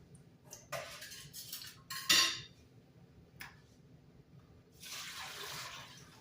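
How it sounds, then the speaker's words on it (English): Water pours and splashes out of a pot of boiled potatoes, with sharp clanks and clatter of cookware before a longer rushing drain near the end. "Drain the water off of our potatoes."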